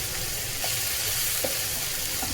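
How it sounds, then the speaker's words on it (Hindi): Ginger garlic paste frying with chopped onions in a pan, a steady, close, continuous sizzle with a few faint stirring clicks and no talking. "अब इसमें 1 टेबलस्पून जिंजर गार्लिक पेस्ट डालेंगे और इसे 2 मिनट के लिए पकाएंगे"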